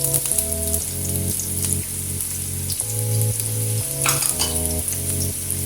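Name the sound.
onion and garlic frying in oil in a kadai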